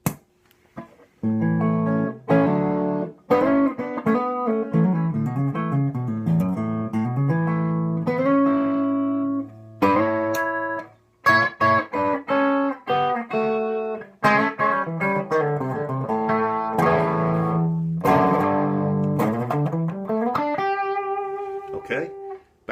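A Les Paul electric guitar played through a Vox Lil' Night Train amp with the thick switch engaged rings out in clean, full picked notes and chords, steady and close.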